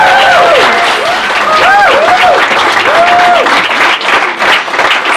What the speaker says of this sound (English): let's all just clap for Sally.